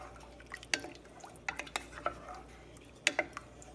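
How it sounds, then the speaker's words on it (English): A spatula scrapes the sides of a pot of crab soup made with South Carolina blue crabs. Several short, light scrapes and clicks come at irregular moments, close and soft, with no talking. "Get my spatula back to make sure my edges are clean."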